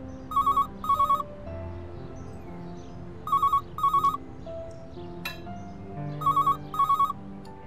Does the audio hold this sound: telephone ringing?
yes